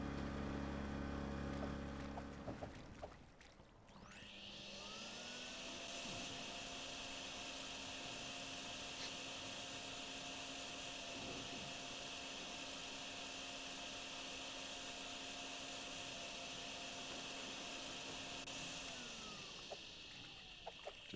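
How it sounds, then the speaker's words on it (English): Vacuum sucking in the video game Drain Sim, a low start giving way to a steady, loud whirring drone that holds evenly for many seconds before tapering off near the end. "Just like that, the vacuum's full again."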